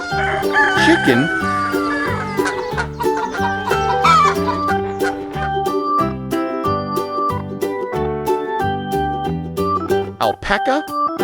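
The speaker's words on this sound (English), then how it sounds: "Chicken." A rooster crows and clucks among a run of toy farm animal sounds, its crowing calls loud and close over a steady harmonic background, with brief bursts near the end.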